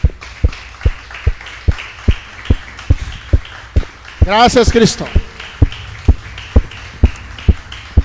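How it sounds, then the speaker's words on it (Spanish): A church congregation applauding, steady rhythmic claps in unison ringing through the hall, with someone speaking briefly over them in the middle. "Dale un fuerte aplauso al Rey de Reyes."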